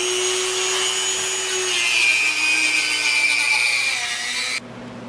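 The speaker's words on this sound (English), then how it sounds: "now I'm going to take my Dremel tool and try to get into some of these corners and the nooks and crannies" A Dremel rotary tool fitted with a tiny wire brush whines steadily as it scrubs the inside corners of a McCulloch Pro Mac 60 chainsaw's metal fuel tank, its pitch shifting midway, then cutting off near the end.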